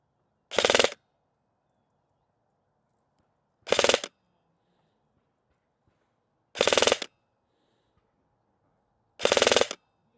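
An airsoft gun fitted with an MR Hop fires heavy BBs in four sharp, evenly spaced single shots about three seconds apart, each a loud burst over near silence.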